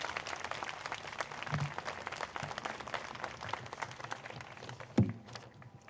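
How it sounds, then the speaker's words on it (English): Audience applauding at an outdoor dedication ceremony for a Keith Haring marker, a steady wash of many hands clapping for several seconds, with a sharp louder bump near the end before it thins out. "I hope we can give them a really loud round of applause"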